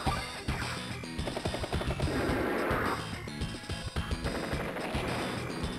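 Advance Wars 2 video game battle audio as units attack an artillery piece: a dense run of crashing, gunfire-like bursts and hits with rapid rhythmic impacts, loud and without speech.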